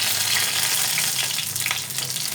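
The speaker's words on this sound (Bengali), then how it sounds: "লাল করে ভেজে নেব। পটলগুলো ভাজা হয়েছে" Pointed gourd (potol) pieces frying in a shallow amount of oil until reddish, giving a steady, close, continuous sizzle with crackling throughout and no talking.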